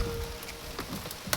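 Rain falling near Mayon Volcano, a steady close patter of drops hitting surfaces, with a few sharper individual splats standing out.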